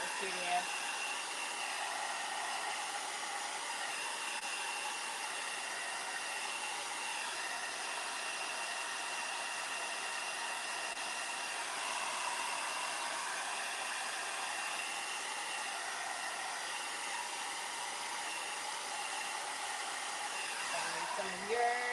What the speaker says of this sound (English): Looks like a slow hair dryer.